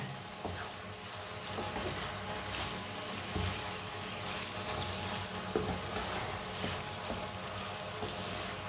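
Turnip (shalgam) in a pan on the stove gives a steady, moderately quiet sizzle and crackle over high heat, with faint scattered pops and no talking.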